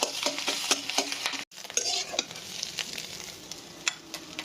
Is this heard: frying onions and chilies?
yes